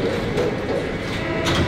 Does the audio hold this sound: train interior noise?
yes